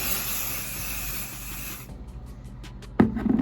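IGK First Class Charcoal Detox dry shampoo sprays onto hair in a steady, close hiss for almost two seconds, followed by faint rustling and brushing of hair at the end.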